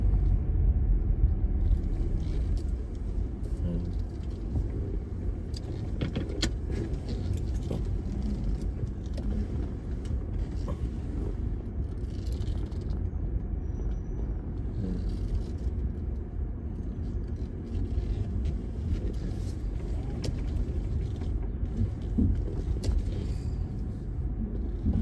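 Car slowly pulling into a parking space outside a full lot on a cold day, a steady low engine and road rumble holding at an even level throughout, close to the microphone.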